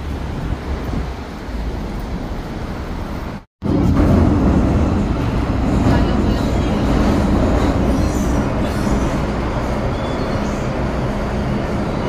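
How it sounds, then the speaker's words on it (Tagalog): A train in Hong Kong rumbles along its rails with continuous wheel noise and clatter heard from inside the carriage, briefly cutting out before resuming at a steady, fairly loud level. "Nandito tayo sa tren."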